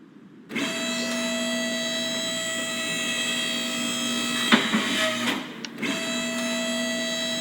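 A car lift in Car Mechanic Simulator 2021 raises a car with a steady electric motor hum that starts abruptly, holds loud and even, then briefly cuts out and resumes near the end.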